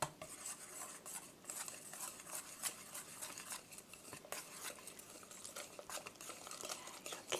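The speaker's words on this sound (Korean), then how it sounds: "이렇게 해서 고루 섞어주세요." Crepe batter for strawberry crepes, made with a cup of milk, is mixed in a bowl. A utensil clinks and scrapes against the bowl in quick, uneven strokes. The sound is soft and close, with no talking.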